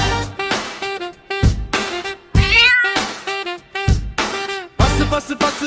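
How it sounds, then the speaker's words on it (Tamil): A cat meowing repeatedly, five or six loud, drawn-out close meows in a steady rhythm with short gaps between, heard alone with no talk. "எலியை பிடிக்கும் பூனை பார்."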